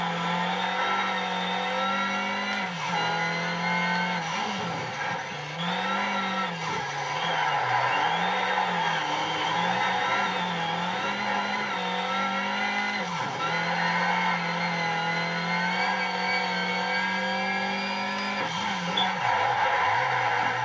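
A front-wheel-drive car's engine drones steadily at high revs through a Need for Speed race, its pitch dipping briefly at gear changes and corners, loud and continuous with no talk.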